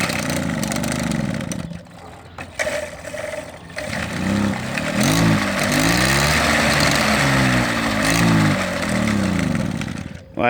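A Motobecane M7 moped engine runs just after starting, a buzzy small two-stroke note that sputters unevenly at first and then revs up and down in wavering surges, close by, with brief talk over it.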